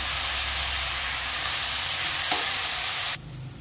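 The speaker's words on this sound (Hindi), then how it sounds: "भाजी आता आपण मिक्स करून घ्यायची आहे।" Red amaranth greens stirred in a hot pan, giving a loud, steady sizzling hiss with one brief scrape partway through, then the sound drops abruptly to a quieter hum near the end.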